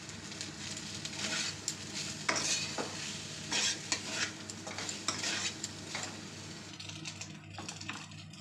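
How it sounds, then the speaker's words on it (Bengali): Rice being stirred into fried fenugreek greens in a pan for methi rice, with continuous scraping, clattering spoon strokes and a soft sizzle throughout, close and fairly loud, with no talking. "দিয়ে ভালো করে নাড়াচাড়া করে নেবো।"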